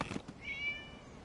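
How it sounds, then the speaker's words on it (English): A cat in the video game Genshin Impact gives a single faint, thin meow after a short soft thump, the high drawn-out cry fading gently within about a second. "It was just a cat."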